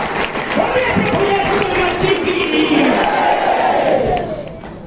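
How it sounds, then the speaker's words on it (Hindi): A congregation at a Hindi-language Christian prayer service responds together in a loud, sustained crowd roar of cheering and voices, steady for several seconds, with clapping not distinct. "जोर से ताली बजा के प्रभु का धन्यवाद करें।"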